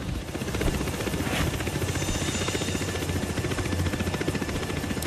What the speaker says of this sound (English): if you look at the second part of the chopper sequence, Agent 47 actually gets to use a disguise and fool the helicopter